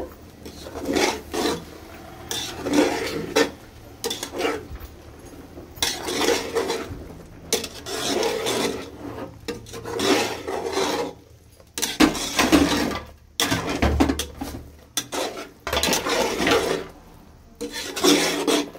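Washed mutton lungs being mixed in a metal pot, repeated scraping and clattering strokes of a spoon against the pot in irregular bursts, close and fairly loud, with no voices.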